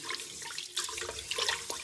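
Sushi rice being washed by hand in a bowl of water, with irregular splashing and sloshing bursts up close, no talking.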